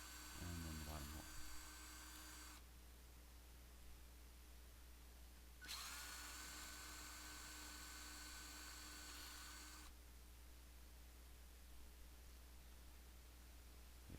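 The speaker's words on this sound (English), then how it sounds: "Just put the drill bit in the drill and drill away." Electric drill boring holes through a wooden headboard, two bursts of high whining motor noise close by, each lasting several seconds with a quieter pause between, preceded by a brief knock.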